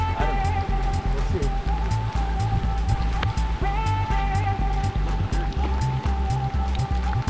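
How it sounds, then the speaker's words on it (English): Rain falls on a river while people stand at the bank fishing, a steady patter and trickle of water heard up close with talk over it. "And there's the rain."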